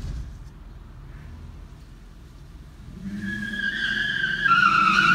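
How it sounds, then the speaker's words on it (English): At a New York City car meet, a minivan does a burnout: low engine rumble builds, then shrill tire squeal rises and grows louder and harsher toward the end. "Minivans do burnouts?"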